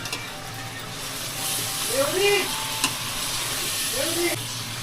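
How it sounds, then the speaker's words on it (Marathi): Green peas sauté in a pan of paneer biryani masala in a bachelor's room kitchen, giving a steady close sizzle and frying hiss with occasional stirring, while a voice briefly murmurs in the background. "जरा परतून घेऊया."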